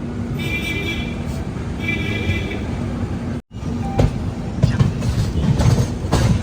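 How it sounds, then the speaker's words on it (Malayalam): A passenger train pulling into Kozhikode railway station gives a steady rumbling, rattling roar inside the coach, with a brief dropout and then louder clatter and thumps as it slows. "കോഴിക്കോട് റെയിൽവേ സ്റ്റേഷനിലേക്ക് ഇതാ നമ്മുടെ ട്രെയിൻ എത്തിക്കൊണ്ടിരിക്കുകയാണ്"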